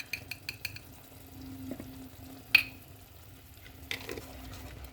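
Ground coriander, chili, turmeric, cumin and onions fry in a pan, a faint low sizzle under a few light utensil taps and scrapes, with a sharper clink near the middle and another toward the end.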